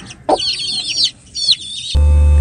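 Chickens and chicks at a farm homestead, with clear clucking and high chick peeps in short bursts up close, ending in a steady low machine hum.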